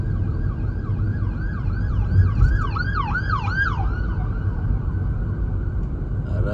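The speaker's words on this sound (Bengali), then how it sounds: "আর রাস্তায় একমাত্র আওয়াজ পাওয়া যায় শুধুমাত্র অ্যাম্বুলেন্সের।" An ambulance siren wails on a downtown Montreal street, its rising and falling yelps repeating in a quick rhythm that grows louder midway and then fades under steady traffic rumble.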